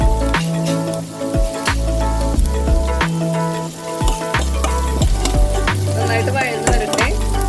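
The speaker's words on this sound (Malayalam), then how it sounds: "നന്നായിട്ട് വഴറ്റിയെടുക്കാം." Half a sliced onion sautés in hot oil in a pan, giving a loud, steady sizzle. Crackling pops and scraping stirring strokes repeat throughout, with no talking.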